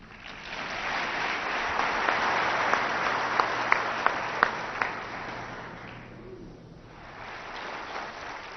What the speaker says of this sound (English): Ladies and gentlemen, please join me in welcoming this morning's speaker, Jim Cathcart.